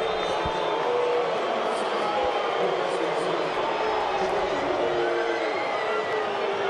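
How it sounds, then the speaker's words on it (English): Football crowd at Audi Field reacting at the end of a Jamaica versus USA international friendly, Jamaican fans cheering in a loud, continuous roar with whistles and shouts throughout. "And you hear the reaction from the crowd here at Audi Field."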